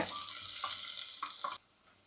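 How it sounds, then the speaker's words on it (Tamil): Onions and green chilies fry in hot sesame oil in a pan, a steady close sizzle with a few spoon-stirring scrapes, before the sound cuts off abruptly. "இப்போ எண்ணெய் காஞ்சிச்சு நம்ம இந்த வெங்காயமும் பச்சை மிளகாயும் போட்டுக்கலாம் போட்டுட்டு ஒரு நிமிஷம் மட்டும் வதக்குங்க"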